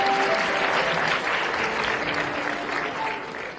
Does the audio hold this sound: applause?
yes